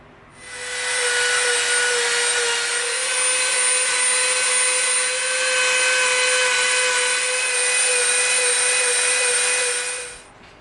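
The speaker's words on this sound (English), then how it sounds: "we're going to get our Dremel out and we're going to go around the outside and we're going to round off the outside edge" A Dremel rotary tool with a smooth sanding bit runs steadily against the edge of EVA foam, a close, continuous high whine with slight rises and dips in pitch, starting and stopping cleanly.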